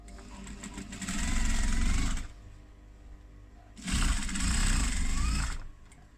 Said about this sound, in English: So I'm going to stitch along, I'll do it from the back so I can see that row of stitches along that seam there